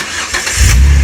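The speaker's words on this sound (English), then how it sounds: "Listen to that engine." A Jeep Wrangler's engine, freshly filled with AMSOIL oil, cranks briefly and catches, settling into a loud, close idle rumble.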